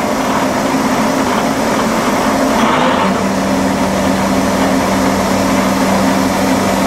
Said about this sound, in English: Through speed changes now, low gear range.